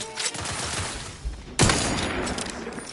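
Gunfire in The Outer Worlds 2 comes as sharp, loud shots: a scattered volley at first, then a heavy blast followed by a sustained barrage, with no talking.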